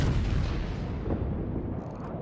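Ship turret artillery firing in the naval video game World of Warships, a continuous dense rumble of heavy booms filling the clip without pause.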